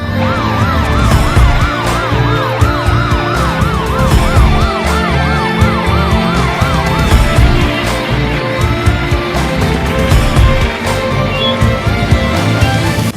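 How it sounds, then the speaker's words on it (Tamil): A wailing siren rises and falls repeatedly over dense, loud traffic and street noise, sweeping steadily for several seconds before fading into the din. "உதவிக்கு அவசர ஆம்புலன்ஸ்."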